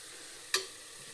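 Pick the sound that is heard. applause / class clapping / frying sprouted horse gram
frying sprouted horse gram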